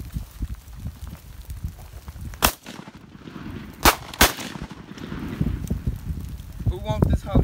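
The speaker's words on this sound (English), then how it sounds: "Bust the pistol, Ruben." Draco pistol gunshots fired outdoors, three sharp loud cracks spaced about a second apart amid background chatter and rustling, with people talking near the end.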